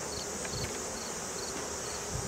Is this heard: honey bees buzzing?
yes